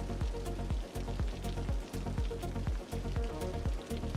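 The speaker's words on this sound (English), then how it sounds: "Oh, rain." Rain in a city-building video game, a steady dense patter of drops over a rhythmic repeating low thump, likely game music, with no talk over it.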